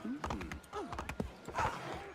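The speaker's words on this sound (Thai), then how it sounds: "ม้านี่มันเป็นสัตว์มีชีวิต" Horse hooves clip-clop in Assassin's Creed III, a quick irregular patter of steps close by, mixed with someone talking over the gameplay.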